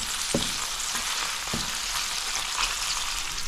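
Sausage casserole ingredients fry in a pot with a steady broadband sizzle, a couple of sharp utensil knocks near the start cutting through the constant crackle.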